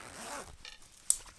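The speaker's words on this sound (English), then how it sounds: "Working zipper time." Zipper on a toy sleeping bag from a doll tent playset, pulled in short quiet zips with a sharp click near the end, close and alone.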